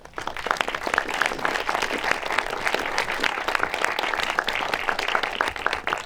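A cinema audience at a film premiere applauds the director and producer, a full, sustained wash of many hands clapping, close and lively, holding steady from start to finish.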